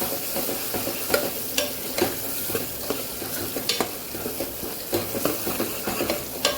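Crushed raw peanuts and sesame seeds stirred into hot oil tempering for undhiyu, giving a close, steady sizzle broken by repeated scraping stirs of a spoon against the pan, with no talking.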